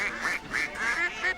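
A cartoonish duck quacks in a radio advert, a quick run of four nasal quacks at close, steady level with no talk over them.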